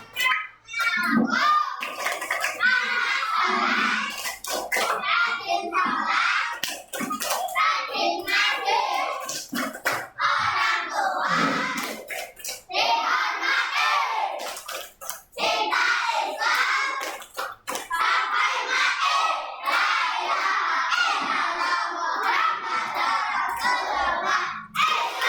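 A third-grade class of children performs the tepuk anak soleh clapping chant, with many young voices chanting loudly in rhythm, punctuated by sharp group hand claps, close and continuous.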